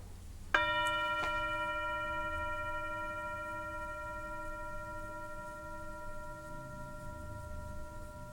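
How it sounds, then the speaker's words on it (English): A single struck meditation bell rings out once and rings on with a long, pure, slowly fading hum over a soft background hiss, followed by a faint second tap. "I'm going to ring the bell, and I'm going to ask you to listen with me."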